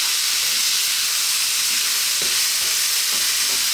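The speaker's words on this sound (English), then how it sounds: "You can hear that rice actually frying" Cooked rice for a vegan mushroom fried rice fries in a hot pan, giving a steady, loud sizzling hiss. A few soft stirring scrapes come through near the end.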